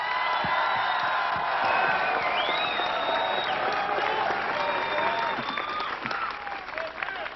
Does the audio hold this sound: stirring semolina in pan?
no